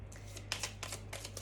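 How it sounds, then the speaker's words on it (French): Oracle cards are handled and shuffled in a few quick, soft riffling bursts, close and fairly quiet against a low steady hum. "je vais tout de suite prendre quelques cartes de l'oracle Béline"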